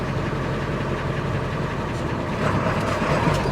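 A Ford F350 or F550 truck engine idles in a steady low rumble, close and continuous, with a slight rise in loudness partway through and no voices.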